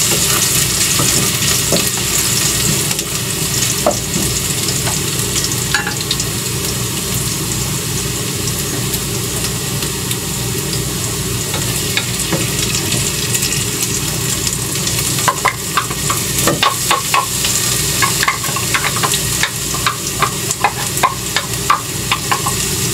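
Garlic and ginger sauté in a pan for lugaw, a continuous loud frying hiss with scattered crackles and stirring clatter over a low background hum.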